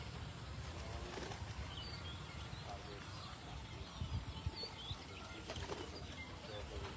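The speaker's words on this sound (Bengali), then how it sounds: "কবুতরগুলো এখান থেকে ওখানে উড়ে যাচ্ছে।" Racing pigeons in a Bangladeshi pigeon count tournament flying about from perch to perch, with soft wing flaps and faint cooing over a steady outdoor background hum throughout.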